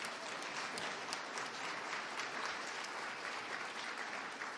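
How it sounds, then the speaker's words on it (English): A crowd claps steadily and densely throughout at an Oklahoma gubernatorial debate between Hofmeister and Stitt, a sustained wash of applause with no voices. "Give them a round of applause."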